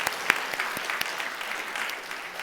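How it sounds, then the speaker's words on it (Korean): A church congregation at a Christmas service gives a short round of applause, an even patter of many hands with a few sharper claps standing out, heard at a moderate distance. "두 분 건강하게 오래오래 기도하시면서 우리 교회에 사역하도록 박수 한번 해 주십시다"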